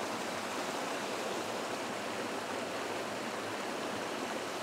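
Steady rushing roar of a waterfall in an autumn forest in Sweden, broadband and continuous throughout with no pauses or voices, close and fairly loud.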